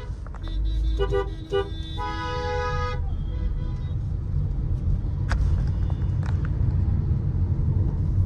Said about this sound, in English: So we'll just crawl along in the second gear at a speed of 7 kilometers per hour.